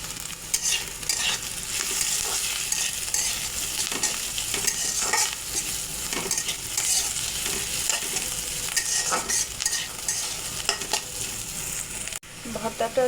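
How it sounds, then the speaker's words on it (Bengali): Gourd peel sizzles steadily in hot oil as it is fried and stirred for a bhorta, with a constant bright crackle and scraping stir strokes running throughout, loud and close. "আমি এগুলি এখন ভালো করে ভেজে নেব।"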